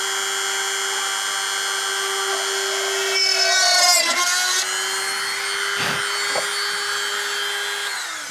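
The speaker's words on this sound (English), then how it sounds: "we are gonna use a Dremel to put a hole on that spot there" A Dremel rotary tool whines at a steady, high pitch while cutting a hole in a van roof for a roof rack mount, with brief grinding scrapes partway through and no talking.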